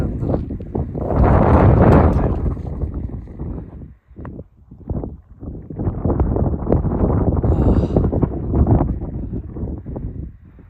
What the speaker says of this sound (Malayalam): ഇന്ന് മാത്രമേ കാറ്റുള്ളൂ കേട്ടോ